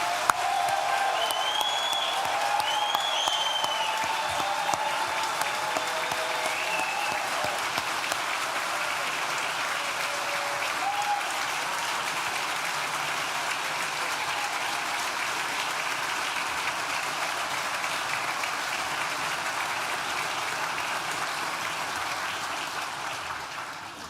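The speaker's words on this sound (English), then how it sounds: "one loud round of applause for all of our graduates today" At a university graduation ceremony, a large hall audience applauds the graduates in long, steady, even clapping. Scattered whistles and cheers rise over it early on, and the applause fades slightly toward the end.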